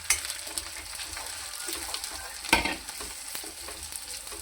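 Capsicum sizzles in a pan with chili, turmeric and coriander powder as it is stirred, a steady soft frying crackle with a brief clatter of a utensil.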